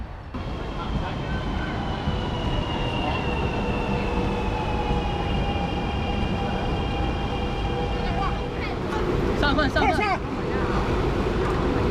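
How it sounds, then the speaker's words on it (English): A train pulls into a station in Xi'an, China, with a long, steady rumble and faint high squeals of braking, then some metallic clatter near the end as it stops. "Our train just pulled in."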